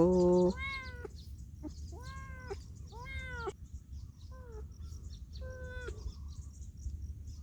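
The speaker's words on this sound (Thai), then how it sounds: "เมื่อกี้ยังจะขู่ในนี้อ้อนเงี้ยวเงี้ยวแล้วเหรอ" A wild cat caught in a fish trap lets out five or six clear, plaintive meows in a loose, uneven series, close by over a steady low background hum.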